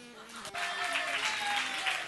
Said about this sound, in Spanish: Aquí va el aplauso ahora